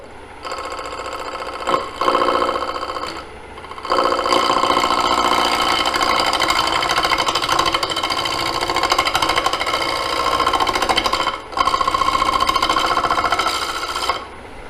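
A wood gouge cuts a square bowl spinning on a lathe, a loud sustained buzzing rasp with a steady hum, broken by short pauses where the tool lifts off the wood.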